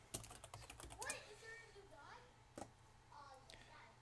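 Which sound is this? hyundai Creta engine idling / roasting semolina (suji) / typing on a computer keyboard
typing on a computer keyboard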